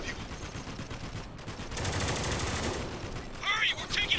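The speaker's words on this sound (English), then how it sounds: "Hurry, we're taking heavy fire." Heavy gunfire in the video game Spec Ops: The Line: dense bursts of automatic fire crackle throughout, swelling into a loud sustained barrage midway, with sharp whizzing shots near the end.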